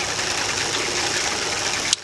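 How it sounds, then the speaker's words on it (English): Small water pump on a hot water camping shower running steadily with an even, buzzy whir, heard close and alone, ending in a brief click. "I know it's a little bit noisy, this pump"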